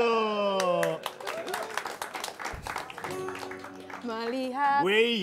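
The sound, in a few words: audience clapping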